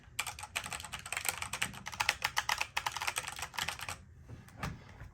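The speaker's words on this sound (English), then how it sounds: "So I have an older Corsair K95 with silver keys." Typing on an older Corsair K95 mechanical keyboard with silver switches: a dense, fast run of crisp clicky keystrokes for about four seconds, then a few scattered taps, close and clear with no talking.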